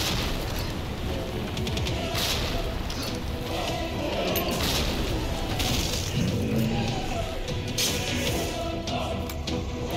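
Continuous chaotic combat in Resident Evil Reimagined: repeated grenade blasts and gunshots crash through a thick, busy mix, with heavy thuds and sharp cracks overlapping throughout.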